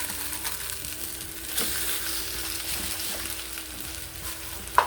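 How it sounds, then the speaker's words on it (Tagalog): Instant burger steak fries in a pan with a steady, close sizzle and soft crackle, a few faint stirring scrapes, and a small clink near the end. "Habang niluluto natin ating burger steak"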